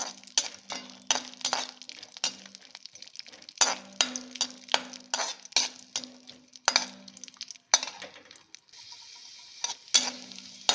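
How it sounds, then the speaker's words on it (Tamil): Cashew nuts and raisins frying in a pan, with a steady background sizzle broken by repeated sharp clinks and scrapes of a spoon stirring against the metal, fairly close and with no talking. "முந்திரி பருப்பு, அதுக்கப்புறம் கொஞ்சம் திராட்சை வறுத்துக்கலாம்."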